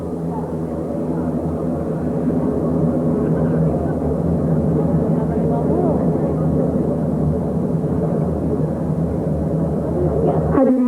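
A primary trainer aircraft flies past at 90 knots during an air force anniversary flypast, a loud, steady engine drone that holds throughout and swells slightly near the end.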